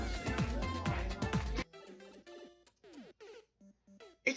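Cat meows from the Kitty Cannon in the platform game Cat Mario, a series of short synthetic game meows and blips ringing out after a dense burst of game noise, with a loud final hit.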